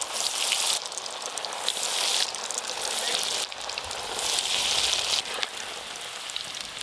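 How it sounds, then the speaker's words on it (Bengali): Bhetki fish fingers fry in plenty of hot white oil, a loud, dense, rain-like sizzle that surges and dips in a few waves as pieces go in, with no speech. "ফিশ ফিঙ্গার ভাজার জন্য তেল ভালো করে গরম হয়ে গেছে, এবার ভেজে নেব"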